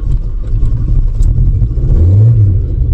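A car with a faulty automatic gearbox starts and revs, giving a loud, close, low engine rumble that swells into a brief rising rev near the end.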